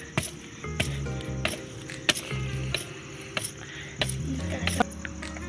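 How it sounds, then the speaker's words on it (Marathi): Soil dug by hand for planting fenugreek at home, with repeated scraping and clinking tool strikes into the ground at an irregular rhythm, close but quiet, alone without talk. "पहिले प्रथम आपण खोदून घ्यायची जमीन."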